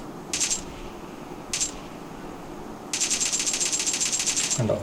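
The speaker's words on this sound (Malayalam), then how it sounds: "അപ്പോൾ ഇനി ജസ്റ്റ് ഒന്ന് വെടിവെച്ച് കാണിച്ചു തരാം." Bursts of M762 rifle fire in the BGMI mobile game: two short rapid volleys, then a longer sustained automatic burst of crisp, evenly spaced shots, close and clear.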